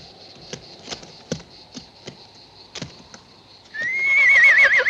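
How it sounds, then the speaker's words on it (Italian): Horses in the 1969 film Medea whinny and neigh over scattered hoof clops and thuds. A loud, wavering neigh rises near the end, close and alone with no talk. "Che bei cavalli."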